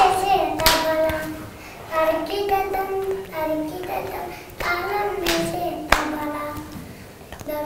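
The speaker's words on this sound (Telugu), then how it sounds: "వెరీ గుడ్ క్లాప్స్ అందరూ" Children clap together in a group, a ragged burst of hand claps mixed with young voices chanting a tabla song, with several sharp louder claps standing out near the end.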